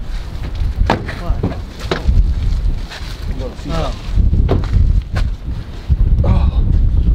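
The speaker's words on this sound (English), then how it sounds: "It's really windy. It's open windy field." Strong wind buffeting the microphone in an open field at night, loud gusty roar throughout with people talking over it.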